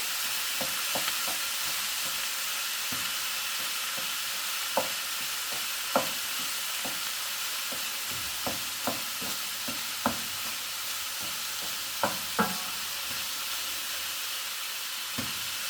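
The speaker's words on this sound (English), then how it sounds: "I'll get the majority of the meat browned" Ground meat browning in a pan over medium heat for bolognese sauce, a steady hissing sizzle with sharp intermittent clicks and scrapes of a utensil stirring.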